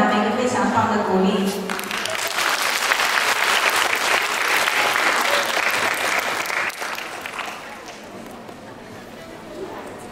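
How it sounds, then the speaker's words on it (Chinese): An audience at a hospital's 20th-anniversary celebration applauds a live band taking the stage, a dense sustained clapping that fades gradually toward the end, with talk from the crowd and a host over it. "我们现在用非常热烈的掌声欢迎他们"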